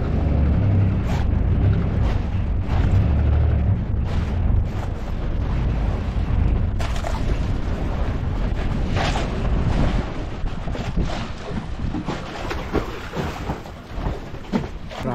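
A fast boat with two engines running at speed, giving a heavy continuous low rumble with wind and water roar, loud and close throughout and easing slightly near the end.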